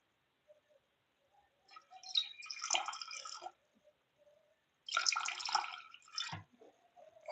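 Distilled water poured into a container for gold recovery from IC chips, two bursts of splashing pour with scattered drips between them, close and fairly quiet, no talk.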